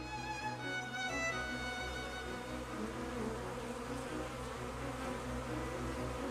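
A bee gathering nectar from flowers, its wing buzz a continuous close, steady drone that swells slightly at times, with no voices.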